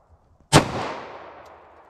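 A single sharp 10mm pistol shot from a Glock 41 with a 5.3-inch barrel, close and loud, with a sudden crack and a long fading ring-out.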